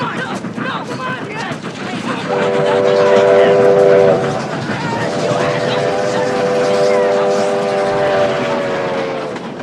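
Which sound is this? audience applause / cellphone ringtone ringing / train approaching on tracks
train approaching on tracks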